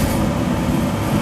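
The gas burner of a Sonofresco 2 lb coffee roaster, roasting green beans, gives a loud, steady, close rushing roar with no breaks and no voices over it.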